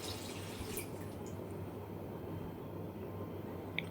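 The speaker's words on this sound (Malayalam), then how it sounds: "വെള്ളമൊക്കെ ഒഴിച്ചിങ്ങനെ സെറ്റാക്കി" Water is poured into a home fish tank, a faint, steady trickle and gentle splashing over a low constant hum, with no talking.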